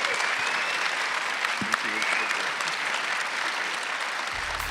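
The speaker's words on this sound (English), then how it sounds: "how about a nice round of applause for these folks taking time out of their day?" An audience at a theatre talkback for the Broadway show A Bronx Tale claps steadily, a dense, even wash of applause held at full strength for the whole stretch, with no voices standing out.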